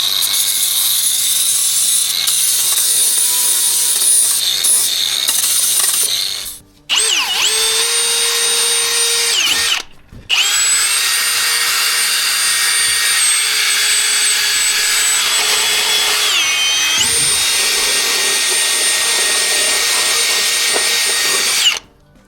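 A power tool grinding and wire-brushing welded metal on a Lexus GX470 body, a loud, high whining drone that runs in long bursts with short pauses and pitch shifts as the tool bears on the metal.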